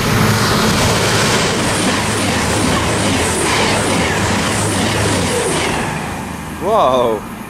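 A Voyager passenger train rushes past close by at Cheddington Station with a steady roar of wheels and rumble, fading near the end as a brief high squeal rises.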